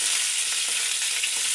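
Cauliflower and potato pieces frying together in hot oil in a pan, a loud, dense, continuous hiss of sizzling close up with no voices.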